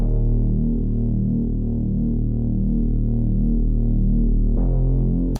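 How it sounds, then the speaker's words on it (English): A deep, droning synthesizer bass pulses steadily on its own, thick and loud, with a slight shift in tone near the end. "But essentially, that bass by itself sounds like this."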